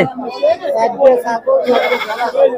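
Goats bleat loudly and close by in quick succession at a goat and sheep market in Ullapara, their wavering cries filling a short stretch.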